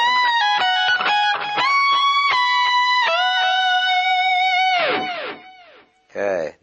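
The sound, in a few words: electric guitar string bend, melody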